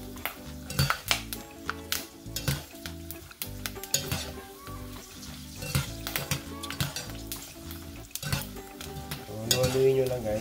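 Pork skin frying in hot oil in a pan, a steady sizzle broken by frequent clinks and scrapes of a utensil stirring and turning the pieces, close and continuous throughout.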